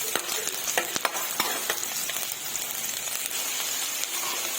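Onion and garlic fry in hot oil with a close, crackling sizzle. Sharp spatula stirs and scrapes break in here and there, and no one speaks.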